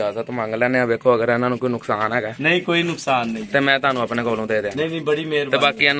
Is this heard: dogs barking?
no